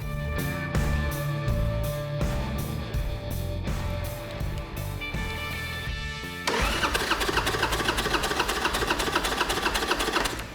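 An aftermarket 1200 engine on a Harley-Davidson Sportster cranks over rhythmically on the starter during a compression test on the front cylinder, a rapid pulsing whir that turns denser and louder partway through, close up with no talking.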